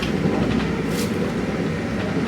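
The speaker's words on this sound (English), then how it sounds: "We made it on the train." Steady broadband rumble and rolling hum inside a moving Brightline passenger coach, continuous and fairly loud throughout with no voices.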